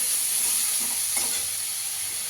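Ground coriander and other spices sauté in a pan for a chhana malai curry while being stirred, giving a steady broadband sizzle with a soft scrape or two, close and continuous, with no voices.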